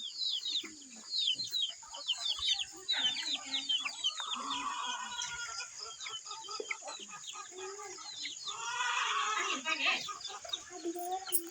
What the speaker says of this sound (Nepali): कुखुराको चल्ला कति धेरै